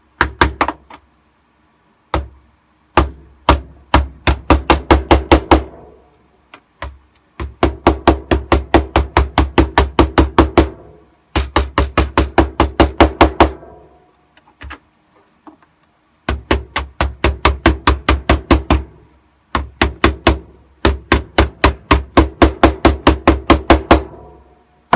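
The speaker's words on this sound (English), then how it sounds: "I'm going to have to try to hit it with my little tool here." A small tool taps a rivet on Shadow Trooper armor in quick runs of sharp, hard knocks, close and loud, the bursts broken by brief pauses, with no one talking.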